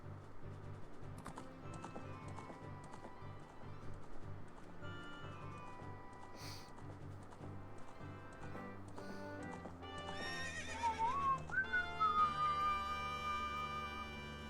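Horse hooves clip-clop at a rapid gallop in the Nintendo game Ocarina of Time, repeated beats over layered game music, then a brief neigh and melodic jingle near the end.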